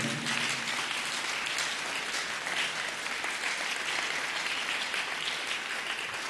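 A church congregation claps steadily during a sermon, a dense, continuous wash of many hands close and loud throughout with no pauses.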